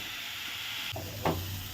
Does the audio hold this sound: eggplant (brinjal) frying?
yes